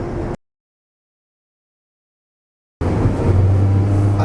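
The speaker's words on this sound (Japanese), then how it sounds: "結構CVT 本体からの音がガーッと入ってくるんで結構うるさいです。" A Daihatsu Hijet Cargo van is driving, with a loud, low droning transmission and engine hum inside the cabin. The sound comes after a long stretch of silence.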